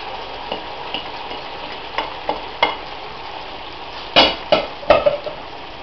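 Chicken and onions sizzle in a pan as they are stirred, with a steady frying hiss and a series of close, sharp scraping knocks from the spoon that grow louder toward the end.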